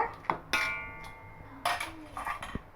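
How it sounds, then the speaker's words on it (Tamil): Cauliflower for gobi Manchurian is being mixed in a bowl, giving light scattered clinks and taps of a utensil against the dish at an irregular rhythm, quiet and close. "இந்த காலிஃப்ளவரை இதில் சேர்த்து நல்லா மிக்ஸ் பண்ணி விடுங்க"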